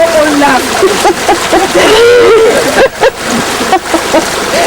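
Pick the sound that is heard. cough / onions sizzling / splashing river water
splashing river water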